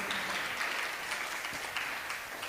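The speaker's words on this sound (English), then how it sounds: "Please give them a big round of applause." An audience at a Bhagavad Gita recitation contest gives sustained applause, a steady, even roar of many hands heard at moderate distance and fairly soft, continuing without speech.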